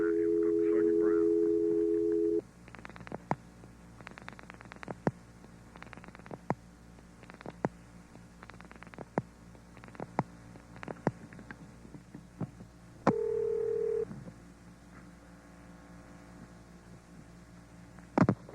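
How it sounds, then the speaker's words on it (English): A telephone number is dialed on an early-1970s line to a police office: a steady dial tone cuts off, then a long run of sharp, irregular clicks follows, broken by a brief second tone and a low background hum. "The number I'm dialing is 485-2521."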